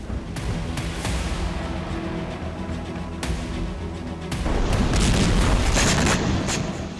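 Rocket explosions rock a city in Israel after missile defenses fail, sending a series of deep booms and rumbling blasts, with sharp hits early on and a heavier, sustained roar swelling in the later seconds.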